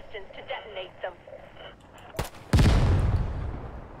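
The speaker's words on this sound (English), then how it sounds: "we're gonna use our pistol for this" Pistol shots ring out in the shooter game Caliber: a sharp crack near the middle, then a louder blast whose reverberation trails off to the end. Radio chatter runs beneath the quieter opening.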